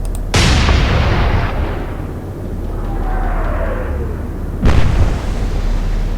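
Naval guns boom in the Atlantic Fleet battle game, with two heavy blasts about four seconds apart, each followed by a long rumbling tail and a whistling shell sound in between.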